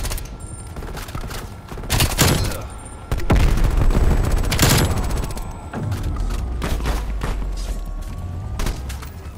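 Gunfire in Call of Duty: Black Ops Cold War, with loud bursts of automatic fire and heavy booming shots stacking up over nearly ten seconds of sustained close-range combat noise.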